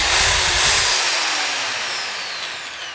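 A roughly 250-watt electric drill from a 115-piece kit, running at no load, gives a loud, close whine after a brief low burst, then its pitch slides steadily downward as the motor winds down.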